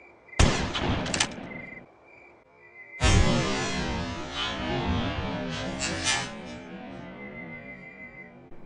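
Gunshots ring out in the horror video game Granny 3, a sharp burst of blasts followed by a longer heavy report that rumbles and fades, set against a thin high game tone.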